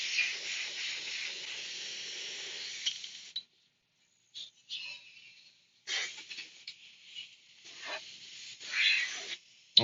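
Airbrush spraying while red paint is rinsed out, a close steady hiss in several bursts separated by short silent pauses, with no voices.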